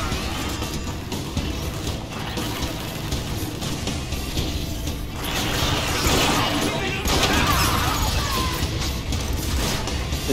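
Dense, continuous gunfire and crashing impacts from a weapon in the video game Transformers: War for Cybertron, loud and chaotic throughout, with a player talking over it.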